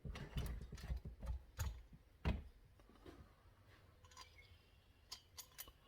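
Metallic clicks, scrapes and light ratcheting of hand tools as the cylinder comes off a ported Husqvarna 272xp chainsaw, irregular and quiet, with a few sharper knocks.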